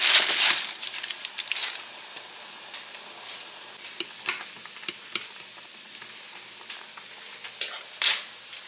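Ramen noodles going into a pot of boiling water on a stove, with close stirring and clattering, sizzling bubbles and scattered sharp clicks, no talking.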